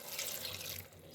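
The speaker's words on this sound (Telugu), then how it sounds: "ఇప్పుడైతే వాటర్ పోసుకోవాలి." Water poured into a pressure cooker holding a broad bean and tomato curry, a steady near splashing and trickling stream running for about a second.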